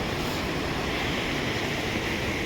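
Steady broadband rush of a river flowing beside a stony walking path at Narayan Bagar in Chamoli Garhwal, Uttarakhand, continuous and fairly close, with some wind noise mixed in and no talking.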